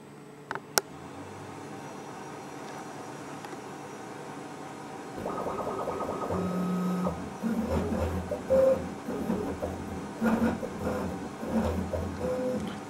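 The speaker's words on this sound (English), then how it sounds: "This machine will print ABS plastic at a rate of about 1 square inch per hour" An additive-manufacturing 3D printer laying down ABS plastic in thin layers to build a prototype part, its quiet background hum giving way to busier mechanical whirring with stepped motor tones and short buzzing moves in the second half.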